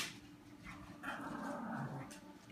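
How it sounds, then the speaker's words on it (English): Dogs play and growl faintly in the background indoors, low rumbling growls with a few soft whimpers over about two and a half seconds. "Got my dogs playing in the background,"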